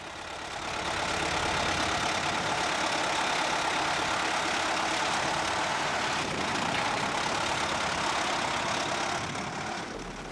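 A Massey Ferguson tractor engine runs steadily and loudly as a silage round bale is set on the back on a farm. The drone is continuous and close, with no talk.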